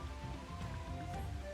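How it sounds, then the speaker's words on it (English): Steady rain falling in the video game Final Fantasy XIV Dawntrail, a dense continuous patter of drops spread evenly over a surface, with a faint tonal game hum running underneath and no talking. "It's so rainy right now."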